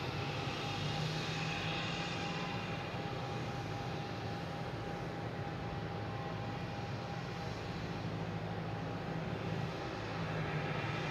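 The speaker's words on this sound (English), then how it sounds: "We got Alaskan Air backing up here." An Alaska Airlines jet pushes back at Boston Logan airport, its engines giving a continuous, even rumble and hiss with a faint steady whine, moderately loud and unbroken, with no voices.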